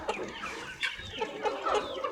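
Local free-range chickens cluck continuously close by, a busy overlapping chatter of short clucks and squawks from several birds, with no talk over it.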